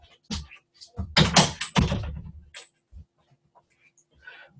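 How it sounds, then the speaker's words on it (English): An office door is shut with a few quick thuds and clicks, close and moderately loud, mixed with rustling and handling noise, followed by quiet. "I'm going to shut my office door because I can hear me daughter."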